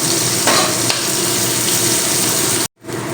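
Chopped onion sizzling in hot oil with nigella seeds for a light fish curry; a loud, dense, continuous hiss that starts abruptly, holds steady and cuts out briefly near the end.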